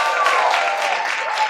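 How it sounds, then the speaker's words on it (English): An audience at an event gives a round of applause, dense continuous clapping from many hands, loud and steady for the whole stretch with no voices on top. "Can I get a round of applause for the Intrepid Museum and CSAW?"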